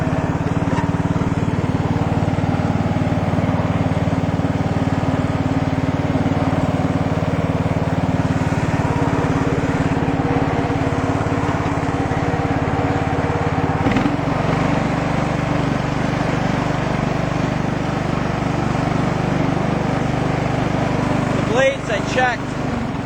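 Sabre lawn tractor engine running steadily nearby as the mower drives up a hill, a continuous loud drone with a brief shift in pitch midway and a short clatter near the end.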